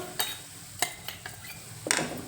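Onion, garlic and ginger paste fries in a pan for a Gowda-style mutton sambar, with a soft sizzle under four or five sharp clinks of a spoon stirring against the pan.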